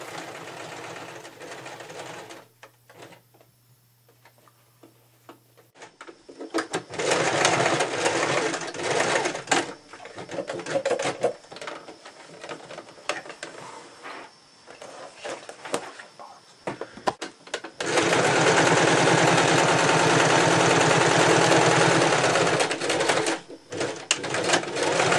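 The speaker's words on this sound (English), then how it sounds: "simply stitch along the edges of the base of the bag" A sewing machine stitching the base of a fabric bag, running in bursts of rapid mechanical whirring with short pauses between runs, close and fairly loud.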